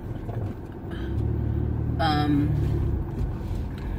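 Steady low rumble of road noise from a big truck while driving, loud and continuous with a brief higher tonal sweep midway.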